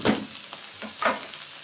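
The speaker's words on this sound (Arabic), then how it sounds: "تاخد كده تشويحة مع اللحمة، واقلب بقى كده." Meat sautéing in a pan with salt, mixed spices, cumin and a pinch of nutmeg, a close sizzle broken by a few louder stirring scrapes, no talking.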